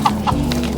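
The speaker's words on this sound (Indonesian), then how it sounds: "Itu ayam tuh." Hen clucking close by in a few short, quick bursts, clear and fairly loud with no speech.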